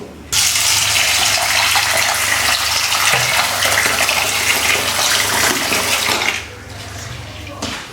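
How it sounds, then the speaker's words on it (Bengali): Lentils (dal) washed under a running tap, with a strong steady gush of water pouring for several seconds before easing off near the end. "ভালো করে ধুয়ে নিস। তোর ডালটা ধুয়ে নিলে আমি ডালটা বসিয়ে দেবো।"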